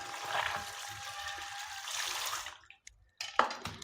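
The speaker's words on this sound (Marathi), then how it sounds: "त्यानंतर याला स्वच्छ पाण्याने आपण धुवून घेणार आहोत" Okra being washed in clean water, a soft running trickle and splashing close by that fades out, then returns briefly.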